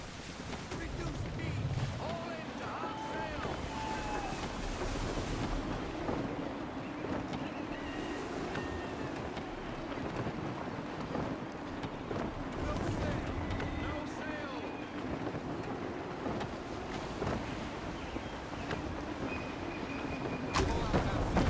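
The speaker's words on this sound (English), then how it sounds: "Wind looks to be shifting. Stay alert, Connor. Gusty winds can be difficult to manage." Steady wind gusts roar around a sailing ship at sea in Assassin's Creed III, with water wash and creaking beneath, a continuous dense rush that swells near the end.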